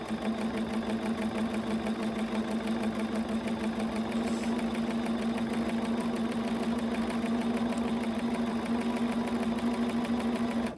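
A sewing machine stitches fabric for a mask along a curve, its motor giving a steady, close, unbroken whirring hum for the whole stretch, with no voices.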